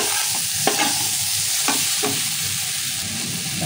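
Taro stolon curry stirred in oil after sugar is added, a ladle scraping and clanking against the pan a few times over a continuous close sizzle.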